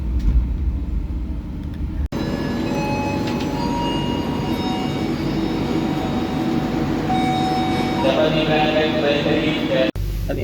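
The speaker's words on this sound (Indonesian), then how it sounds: "KA Brawijaya telah tiba dan berhenti di stasiun Semarang," The KA Brawijaya, an old long-distance executive-class train, stands at Semarang Tawang station with a steady low rumble and hum of the carriage, brief clunks near the start and end, and faint voices in the background.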